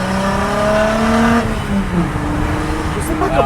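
A diesel TDI car engine revs steadily with a rising, buzzing drone, loud and close, then eases off as people talk quietly underneath.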